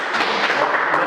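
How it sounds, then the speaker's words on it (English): Applause rings out from a live studio audience, a steady dense wash of many clapping hands, fairly loud and continuous for about a second with no talk over it. "That's a round of applause."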